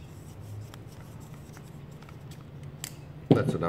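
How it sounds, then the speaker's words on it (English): Thread tape being wrapped onto a hydraulic fitting, with soft, faint rubbing and scratchy stretching sounds through quiet room tone, then a brief louder rustle at the end. "we'll quickly whack some thread tape on this fitting"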